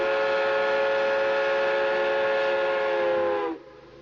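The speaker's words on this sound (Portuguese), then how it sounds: "Lá vai o trem" A loud, sustained steam train whistle sounds a single long, bright multi-toned blast that holds steady for about three and a half seconds, then cuts off abruptly, leaving only faint background rumble.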